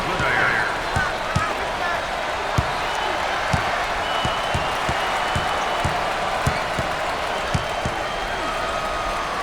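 A basketball arena crowd at a South Carolina versus Clemson game roars in a dense, sustained wall of cheering, with sneaker squeaks and thumps of play cutting through and a commentator talking over it.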